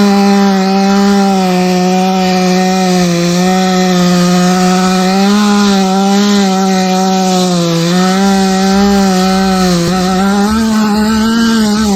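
Grinder stripping paint from a C4 Corvette body, a loud, close, continuous high whine that wavers in pitch as the tool presses and moves across the panel, with no talking.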